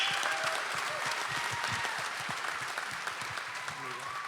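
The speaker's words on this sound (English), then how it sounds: "Round of applause" Applause from a live podcast audience fills the room in a dense, steady wash of clapping that holds at an even level throughout.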